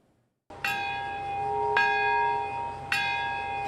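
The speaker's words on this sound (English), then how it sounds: "A bell tolls in Nagasaki" A church bell tolls three times in Nagasaki, Japan, at an atomic bombing memorial, each strike ringing out clearly and sustaining a long, humming resonance between strokes, after a brief moment of near silence.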